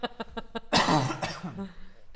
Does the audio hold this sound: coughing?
yes